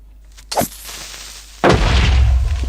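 Explosions in the Minecraft video game: a short sharp burst followed about a second later by a louder, deep booming blast that rumbles on to the end.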